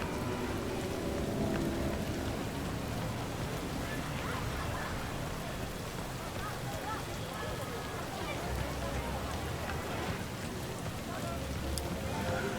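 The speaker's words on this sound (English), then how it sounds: "I do love walking around this game when it's raining" Steady rainfall hisses across the city streets in Cyberpunk 2077, a dense even wash of drops that holds through the whole stretch with no clear talking over it.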